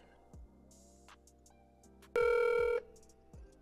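A phone line ringing on an outgoing call, with faint repeated tones and one louder ring burst, heard alone without talking.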